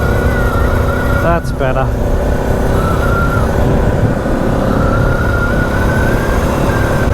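Adventure motorcycle riding on a dirt road, its engine droning loud and steady throughout with a brief rev near the start, and a rider speaking briefly over the noise.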